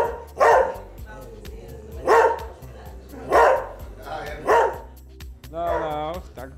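A dog, looking like a fierce guard dog at a Sport Recife supporter's home, barks in five loud, evenly spaced single barks close by, followed by a longer whining yelp, with speech faintly present in the background.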